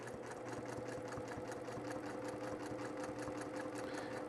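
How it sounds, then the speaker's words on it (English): Sewing machine running steadily while stitching close around an iron-on logo on a T-shirt quilt, a fast even needle rhythm with a constant motor hum, close and alone. "So I'm going to sew close to it."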